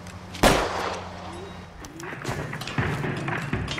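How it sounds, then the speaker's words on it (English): Gunfire in the L.A. Noire video game: a sharp, loud shot near the start followed by another duller report later, set against background game ambience. "He's shooting people"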